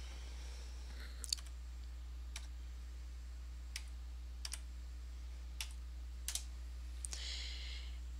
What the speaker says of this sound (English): I'm going to type in the verification code.